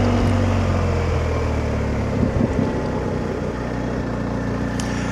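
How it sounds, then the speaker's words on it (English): A BMW R1250GS Rallye TE motorcycle with an Akrapovic exhaust holds a steady, close engine drone under wind noise, with a brief cluster of pops and burbles midway. "I do like the burbles and pops from that Akropovich exhaust."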